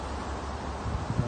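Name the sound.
wind blowing outdoors on a sunny winter afternoon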